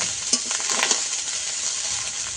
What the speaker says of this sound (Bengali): আমি প্রথমে ভাতটা একটু নেড়ে চেড়ে নেব